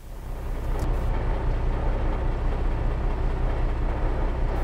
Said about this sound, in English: Suddenly, along came the bin lorry.